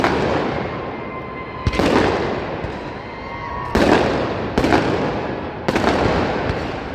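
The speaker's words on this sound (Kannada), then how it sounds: "ಫುಲ್ಲು ಪಟಾಕೆ." Firecrackers go off celebrating India's win: four or five loud, sharp booms at irregular intervals, each followed by a crackling, echoing tail over a steady background hum.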